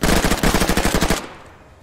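A rapid burst of automatic gunfire in the Arma 3 game, about a dozen loud close shots in quick rhythm, then a short decaying echo trailing into quiet.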